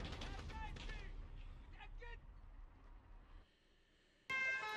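Enemy gunfire rattles in the Call of Duty Modern Warfare video game, dense bursts of shots mixed with shouting soldiers and game noise, loud at first, then thinning before a sudden loud blast of sound at the end.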